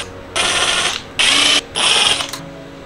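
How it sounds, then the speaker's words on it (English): A tool whirs out the front cover screws of a Wiz Kid gumball machine in three short, close, mechanical bursts with brief pauses between them. "We're going to go ahead and keep unscrewing the rest."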